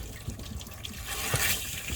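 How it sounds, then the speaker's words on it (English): Water gushes and trickles out of a flushed heater core on a 1989–98 GMC K1500 truck, carrying dirt, a steady close splashing flow for about two seconds with no talk. "Quite a bit of dirt still coming out before the clear water comes out."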